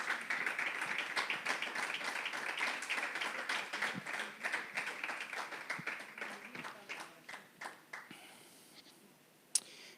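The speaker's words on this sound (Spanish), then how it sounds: "Denle un aplauso al Señor." A church congregation applauds during a Sunday sermon, a dense burst of many hands clapping that thins into scattered claps and fades to near silence, with faint murmuring beneath.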